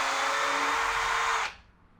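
A Kobalt 24V cordless right angle drill runs in reverse with a steady, loud motor whine for about a second and a half, then cuts off abruptly, leaving quiet room tone with no talking.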